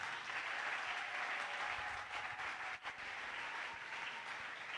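A church congregation applauds and cheers for the Lord in a steady, dense wash of clapping that holds loud and sustained throughout.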